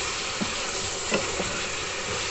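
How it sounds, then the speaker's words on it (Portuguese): Chicken sizzles steadily in a hot pan with annatto and turmeric, a dense continuous frying hiss with a few soft clinks of stirring. "Nosso franguinho já tá fritando aqui"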